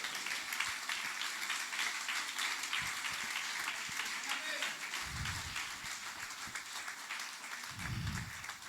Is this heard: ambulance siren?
no